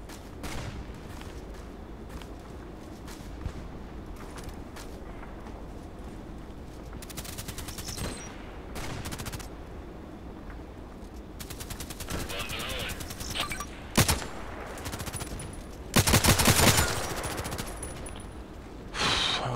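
Gunfire from the shooter game Contract Wars comes in scattered single shots and short rapid bursts, with a loud heavy volley near the end, over a steady background bed.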